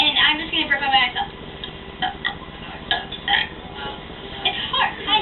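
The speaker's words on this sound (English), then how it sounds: "I'm just gonna burp by myself." A young girl burps repeatedly by herself, a series of short throaty eructations spaced irregularly with brief pauses and light room noise between them.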